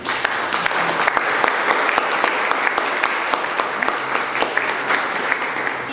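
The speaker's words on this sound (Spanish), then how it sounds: "Les pido un aplauso para la compañera." At a book presentation, a seated audience applauds a speaker who has just been introduced, giving a full, sustained round of many hands clapping at steady volume for around six seconds.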